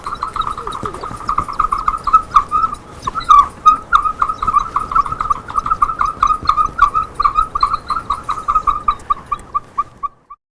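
A wood-turned chirper whirls and chirps in a rapid, steady stream of bright, bird-like squeaks close by, fluttering on for about ten seconds before stopping abruptly.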